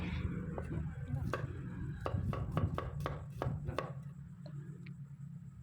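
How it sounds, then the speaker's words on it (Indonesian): Garlic is sliced with a knife on a cutting board for fried noodles, a quick series of crisp taps in an irregular rhythm against a steady background hum in a kitchen. "bawang putihnya diiris-iris"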